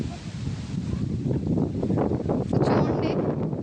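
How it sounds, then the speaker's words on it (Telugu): Strong wind gusting across an open, green riverside spot by the flooded Godavari river in Konaseema, a steady roaring rush against the microphone that swells louder toward the end. "గాలి ఒక రేంజ్లో వస్తుంది"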